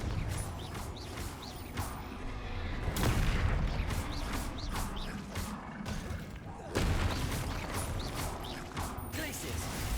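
The Confringo fire spell is cast repeatedly during combat in Hogwarts Legacy, with loud booming blasts and crackling impacts layered in dense, continuous battle noise that swells in two bursts.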